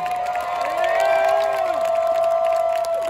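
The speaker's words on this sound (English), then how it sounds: "Big round of applause for our crew" Big outdoor amphitheater crowd at a country music concert cheers and applauds continuously, with whoops and shouts rising over a dense clapping roar, while a sustained instrumental drone rings underneath.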